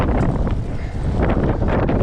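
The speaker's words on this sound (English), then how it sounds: "Now I'm going against the wind." Heavy wind buffets the microphone while riding an e-bike uphill into a headwind, a loud, continuous roaring rumble that fills the whole moment with no speech.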